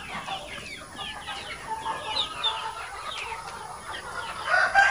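A flock of laying hens on a farm clucking and squawking steadily, with overlapping calls and a rooster-like cry rising toward the end.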